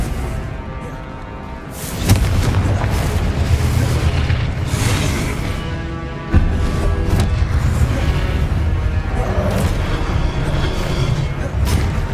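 Confringo fire-blast spells exploding in the video game Hogwarts Legacy, two heavy booming blasts with rumbling tails, loud and close, over continuous game sound.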